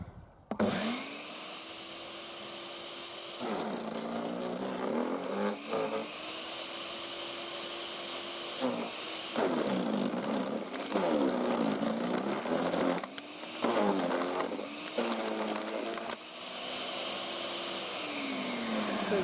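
A garden branch shredder chews through 22 mm branches: a loud, steady motor whine that dips and strains several times as each branch is fed in, then recovers to its running pitch.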